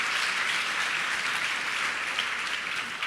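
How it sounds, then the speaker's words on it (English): Audience at the 2016 Aspen Institute Annual Awards Dinner applauding, a dense, even wash of many hands clapping throughout with no voices over it. "yeah, you can applaud that too."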